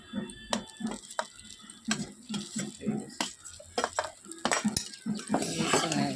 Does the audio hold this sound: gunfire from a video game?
no